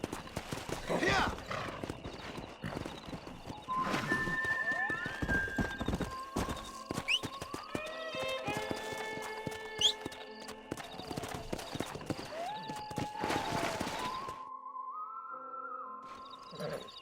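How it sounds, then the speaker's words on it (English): Horses in the Red Dead Redemption western game on PS5 trot with a steady clip-clop and whinny several times, with voices talking over the hoofbeats. "We got some fine horses."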